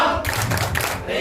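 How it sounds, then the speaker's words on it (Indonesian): A group performing Tepuk Banyumas, a rhythmic Javanese clapping game, gives a short run of sharp, close claps in a quick pattern, with voices chanting in the background. "Tepuk Banyumas."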